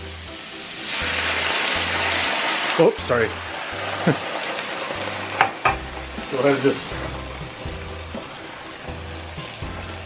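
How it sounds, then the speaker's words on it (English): Water hits a hot pan of birria meat and spices, setting off a loud steady sizzle with scraping stirs, while a person briefly speaks over it. "I'm gonna go ahead and add a little bit of water to that pan now to get everything meshing together."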